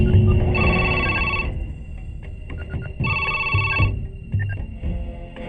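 A telephone bell rings in two clear bursts about two and a half seconds apart, close and fairly loud over a low background murmur.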